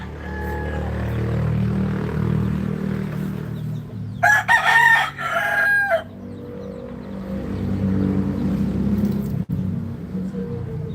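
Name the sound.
chickens, rooster crowing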